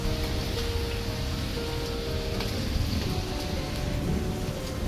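Heavy rain pours down steadily, a dense continuous hiss of drops hitting surfaces close by, with no voices.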